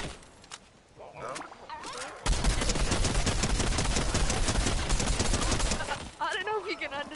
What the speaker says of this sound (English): I'm shooting Bruce. The llama.